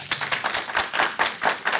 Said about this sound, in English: if you feel regardless that Phyll overreacted, give me a round of applause.